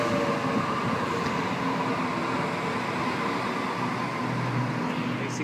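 Sydney train from Campbelltown at Cabramatta station, a steady loud rumble and rattle of carriages rolling along the platform, continuous throughout.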